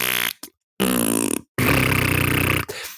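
A voice imitates a long, nasty fart in three sustained raspy bursts separated by short silences, loud and close, with no other talk.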